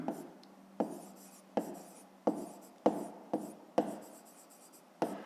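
A pen writes a maths exercise on paper close up, with repeated short strokes and sharp taps at a regular pace, and scratching between them.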